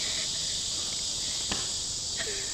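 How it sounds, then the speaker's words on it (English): Insect buzzing outdoors, a steady high-pitched drone that holds throughout, fairly loud and close, with a couple of faint knocks beneath. "Is this a cicada?"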